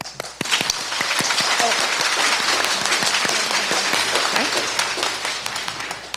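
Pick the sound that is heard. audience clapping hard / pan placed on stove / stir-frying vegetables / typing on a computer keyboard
audience clapping hard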